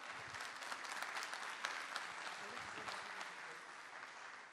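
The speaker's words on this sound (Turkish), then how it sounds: "Bu güzel alkışlar hep sizin için." Studio audience applause on a Turkish television entertainment show, a steady wash of many hands clapping throughout, fairly soft and even with no voices standing out.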